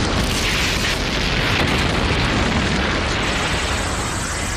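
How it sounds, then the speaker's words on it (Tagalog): A loud, sustained explosive roar from an overloaded Spirit Bomb blowing up in an animated fight fills the whole stretch, a dense rumbling blast that holds steady without fading. "hindi na kinaya ng Spirit Bomb ang puwersa kaya sumabog na ito kay Goku."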